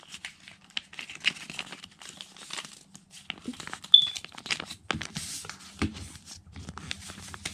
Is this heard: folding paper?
yes